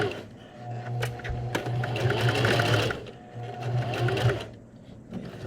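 Close sewing machine stitching a felt superhero mask piece, with back stitching: a fast mechanical whirring runs in two bursts with a brief slowdown between them, ending quieter.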